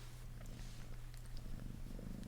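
A house cat purrs right up against the microphone, a steady close, low rumbling throb with soft rhythmic breathing, heard alone.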